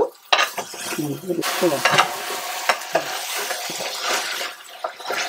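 Country chicken curry frying in a pan while a spoon stirs it, with steady sizzling, scraping, and clinks of utensil against metal, close and loud.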